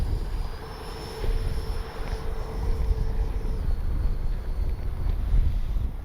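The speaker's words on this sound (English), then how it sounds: "It's windy." Wind buffeting an outdoor microphone at a radio-controlled jet flying field, a steady rumbling roar with gusty swells throughout and a faint thin whine running alongside it.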